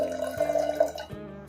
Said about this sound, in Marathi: त्याच्यात टाकूया आपण पाणी चणे बुडल इतकेच आपल्याला पाणी टाकायचं आहे